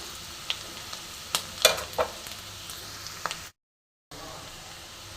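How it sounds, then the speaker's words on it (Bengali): Chopped onion and green chilli fry in a pan with an even sizzle, broken by brief stirring clatters, then a short silent gap before the frying resumes. "এবার পেঁয়াজ আর কাঁচা লঙ্কাটা ভালো করে ভেজে নেবো"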